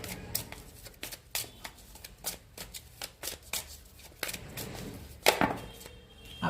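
Tarot cards being shuffled by hand in a rapid series of crisp riffling slaps and flutters, close and moderately loud, with a sharper burst near the end as a card is drawn.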